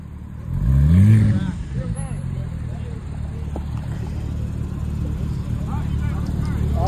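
A Chevrolet Camaro ZL1 with a cam revs loudly nearby in one brief swelling burst, then idles with a rumbling tone while people talk over it.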